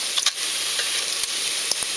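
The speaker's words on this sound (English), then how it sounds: "Now I'm just going to dry fry them till the juices start to come out" Chanterelle mushrooms dry frying in a hot pan give a steady, close sizzle with a few soft clicks and pops, with no voices.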